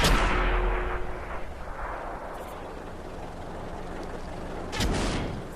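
Tank guns firing in the World of Tanks video game: one heavy booming report opens, a rumbling tail follows, and a second loud blast lands near the end.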